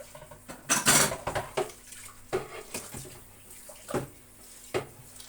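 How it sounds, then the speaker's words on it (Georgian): Tap water splashes into a sink while dishes are washed, with intermittent running bursts and clinks of pots and cutlery rising and falling close by. "წყალი მოდის"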